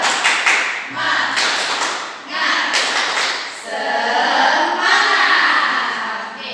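A group in a school session claps a rhythmic spirit chant, bursts of quick, crisp claps alternating with voices calling out together in a room.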